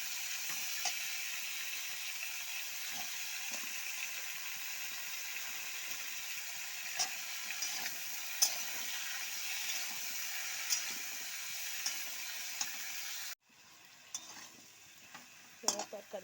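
Mixed vegetables fry in a pan in a home kitchen with a loud, steady sizzling hiss and occasional light stirring scrapes. The hiss cuts off abruptly near the end, leaving a few scattered clatters.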